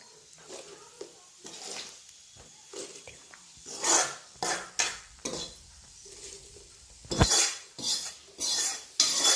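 Spoons scrape and clatter against a bowl as a Kolhapuri puffed-rice snack mixture is tossed, in bursts of irregular metallic rattling between quieter pauses, close by.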